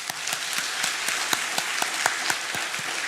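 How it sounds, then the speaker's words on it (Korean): Church congregation applauding during a Sunday worship service in a Korean church, a dense steady round of clapping with distinct sharp claps, moderately close and without speech. "우리 박수로 위로하겠습니다"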